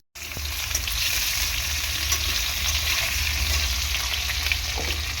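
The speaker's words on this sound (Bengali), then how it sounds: "আলুটাকে প্রথমে ভালো করে একটু ভেজে নেব।" Potatoes frying in hot oil in a pan, a loud, steady, close sizzle that continues without a break and with no talking.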